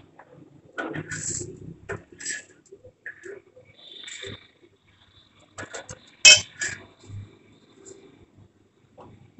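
A metal spoon clinks and scrapes against dishes while chana dal with onions is served, in a few irregular light taps and one sharper clink, close and fairly quiet with pauses between.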